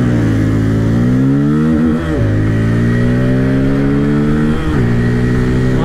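Bajaj Pulsar NS200 and N250 motorcycles race side by side in a drag, engines loud and close, revving steadily with rising pitch and two brief dips as gears change.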